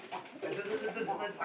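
Pigeons in a loft give low, soft cooing calls that repeat through a short stretch, close by, with someone talking over them.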